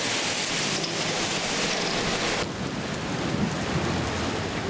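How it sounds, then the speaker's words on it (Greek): Heavy rain pouring during a thunderstorm on an island in early September, a loud, unbroken wash of noise with a deep rumble beneath, steady throughout with no voices. "Μετά από αρκετά χρόνια τα πρωτοβρόχια ήρθαν στο νησί μας νωρίς τον Σεπτέμβρη."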